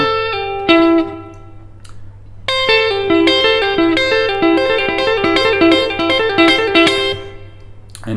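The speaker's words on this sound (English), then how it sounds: "I use my middle finger to play the first string, then a downstroke with my pick" An electric guitar is hybrid picked with a pick and the middle finger, playing a clean phrase of quick plucked notes over a steady low hum, opening with a few sparse notes before a busier run.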